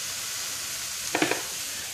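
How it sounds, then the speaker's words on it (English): Pre-cut vegetables land in a preheated pan with a little olive oil, giving a steady frying hiss with a brief cluster of clatters as they hit the pan. "this is a preheated pan with a few dashes, you know, of olive oil. So throw that,"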